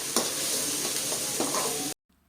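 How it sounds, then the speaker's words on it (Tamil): Oil sizzles loudly and steadily in a pan as green chilies and garlic are fried and stirred, with a few scraping clinks before the sound cuts off abruptly. "இந்த பச்சை மிளகாவும் பூண்டும் நல்லா வந்து வதங்கணும்"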